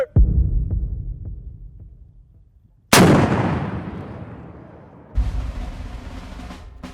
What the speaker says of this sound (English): Although the soldiers don't fire live rounds themselves, instructors demonstrate what the AT4 can really do.